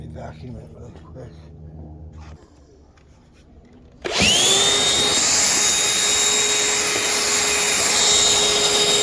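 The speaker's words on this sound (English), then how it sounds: "Let me vacuum it really quick." After a quieter stretch with someone talking over workshop noise, a vacuum cleaner abruptly starts up loud and close, its steady whine droning on while it cleans a car body during rust repair on the rear windshield frame.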